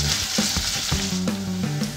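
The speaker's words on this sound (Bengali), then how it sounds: "আমি এতে আস্তে আস্তে পেঁয়াজটা দিয়ে দিব, আস্তে আস্তে নাড়তে থাকবো যেন পেঁয়াজগুলো বাদামি রং ধারণ করে" Onions frying in hot oil and stirred slowly for a beef dum biryani: loud, close, continuous sizzle with quick scraping and clinking strokes of the spoon against the pan, and no talking.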